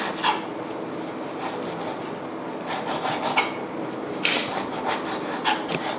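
Repeated scraping knife strokes slicing pork tenderloin thinly on a cutting board, irregular and close, over a steady background hum.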